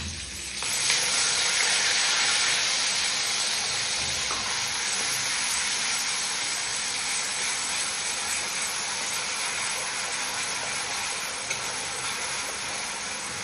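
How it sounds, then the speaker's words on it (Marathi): Blended onion paste hits hot oil in a pan with a loud, sudden, broad sizzle that holds steady and close for the whole stretch, no talking. "आता इथे मी कांद्याची पेस्ट टाकणार आहे."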